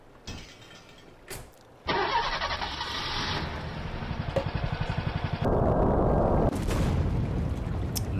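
A rocket launching in the Henry Stickmin game: a sustained loud rumbling roar with a rapid fluttering pulse, building and shifting in pitch over several seconds after a couple of short bursts, with no talking.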